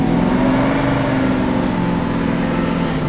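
A cheap supercar's engine revs hard while its clutch slips badly, giving a loud, close, steady droning roar with a sustained pitch for the full few seconds and no voices.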